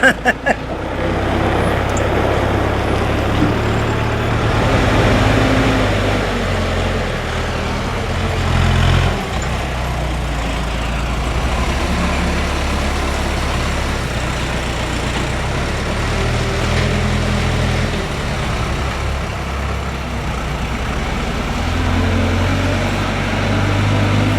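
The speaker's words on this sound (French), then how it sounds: "Déjà à conduire un tracteur." A tractor engine being driven on a farm, a steady low rumble with shifting load that stays loud and close throughout, with no talk over it.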